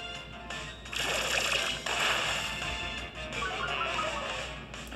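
The Chilling Water move in a Pokémon Scarlet/Violet battle makes a bright, splashing water rush, a couple of surging sloshes followed by a trickling fade.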